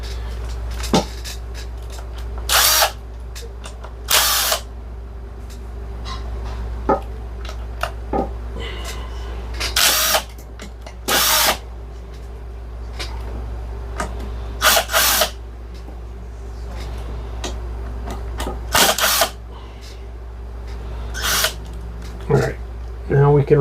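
Power driver backing screws out of an Umarex Zelos airgun, short sharp whirring bursts repeated at irregular intervals, close by, with quiet handling noise in between.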